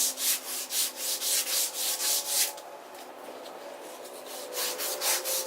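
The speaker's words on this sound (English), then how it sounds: "I've cut a piece of 220 into a strip, and I'm going to sand on it like it's a shoe shine." A 220-grit sandpaper strip is pulled back and forth, shoe-shine style, around a wooden knife handle, giving rhythmic close rasping strokes that pause briefly midway, then resume.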